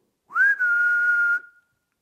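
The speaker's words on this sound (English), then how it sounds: "Whistle." A single clear whistled note, rising briefly and then held steady for just over a second before fading out, with no other sounds.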